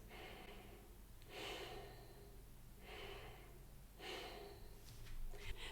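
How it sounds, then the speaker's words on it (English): Slow diaphragmatic breathing, close and quiet, with about four even cycles of long airy inhales and exhales in a calm steady rhythm, no talk. "But if I'm diaphragmatic breathing, it's going to look like this."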